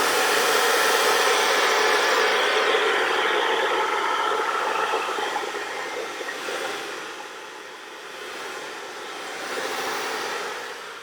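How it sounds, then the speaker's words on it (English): Hair dryer on warm heat blowing over hair roots: a continuous, close airy roar that softens and shifts in tone as it moves around, with no talking. "So I kind of just go around and make sure I dry my roots."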